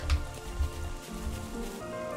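Rain falls in the video game Xenoblade Chronicles 3, a soft steady patter under game music with a few low thumps, brief and fairly quiet.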